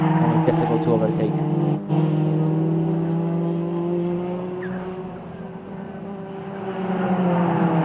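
TCR touring cars, a Cupra and a Hyundai, racing at the Most circuit: a steady loud engine drone with gear shifts and passing cars under continuous commentary.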